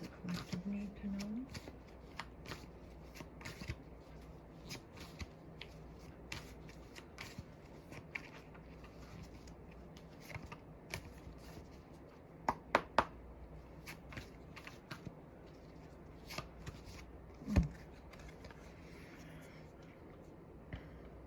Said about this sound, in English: I'm going to pull from the Infinite Energies Oracle card deck.